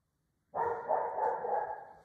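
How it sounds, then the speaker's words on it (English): A pet dog barks indoors, a faint, sustained outburst that starts abruptly after a moment of silence, reacting to someone walking outside. "Someone must be out walking, and Pepper's giving them the royal doggy salute"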